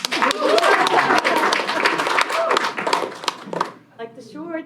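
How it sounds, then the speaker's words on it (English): An audience claps at a high school district board meeting, steady dense applause filling the room for several seconds before it tapers off and a voice starts speaking. "Oh, let's clap."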